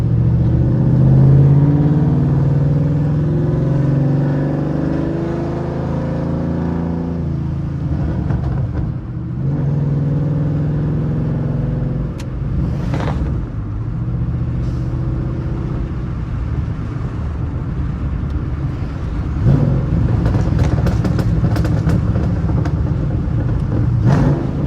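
A jumpy car decelerating with its engine popping, a loud close rumble with irregular crackles and pops over the idle, no talk.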